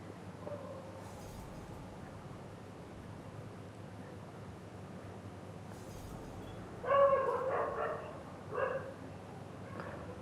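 Dogs bark in the background against a quiet room hum: a cluster of several close barks, then a couple more shortly after, fairly distant and moderate in level.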